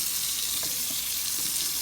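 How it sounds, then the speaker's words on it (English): Cool tap water runs steadily into a kitchen sink during turkey preparation, a continuous close hiss and splash with no talking. "Okay, so we're going to use cool water."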